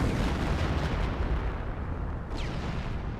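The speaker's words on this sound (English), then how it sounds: "Creeping barrage, so he has gone for artillery." A creeping artillery barrage in Company of Heroes: continuous heavy rumbling of shell blasts and detonations, with a brief whistling streak of an incoming round partway through.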